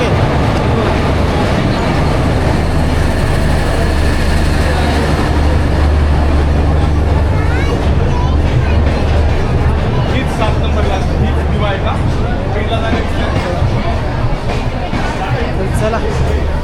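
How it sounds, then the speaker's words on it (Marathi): Diva-Ratnagiri passenger train at Panvel station, a loud low rumble and rolling noise amid crowd babble and announcements on a busy platform, the engine hum dropping away midway while people talk nearby. "आता आहे ना आपली दिवा गाडी, दिवा रत्नागिरी पॅसेंजर"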